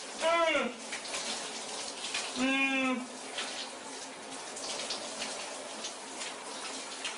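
Shower water running in a steady hiss throughout, with two short bursts of voiced sound rising over it near the start and in the middle.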